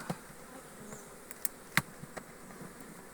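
Honeybees buzzing steadily around, a busy insect drone with occasional sharp clicks and knocks nearby, no voices.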